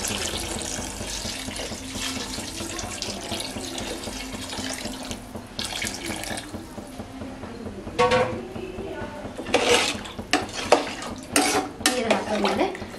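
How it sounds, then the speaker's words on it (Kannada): Water is poured by hand into a pot of village-style chicken biryani, a steady close trickle and splash with clinks of a vessel, growing louder in bursts near the end. "ನೀರು ಹಾಕ್ತಾ ಇದ್ದೀನಿ."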